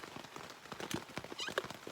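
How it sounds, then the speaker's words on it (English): Rain falling on a camping tent in the New Hampshire mountains, a faint patter of scattered drops tapping irregularly on the fabric, quiet and close, with no voices. "As you can hear, the rain's still coming down pretty good."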